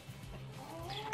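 Bantam Cochin chickens, a light-coloured dwarf ornamental breed, clucking softly in their new pen, a steady low murmur of calls with a brief brighter squawk near the end.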